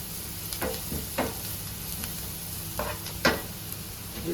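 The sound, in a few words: stirring prawns with turmeric powder in a pan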